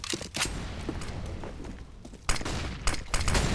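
Counter-Strike match on Inferno with XM1014 auto shotgun fire, several sharp blasts in quick bursts, with other gunfire further off.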